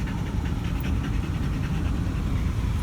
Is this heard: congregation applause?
no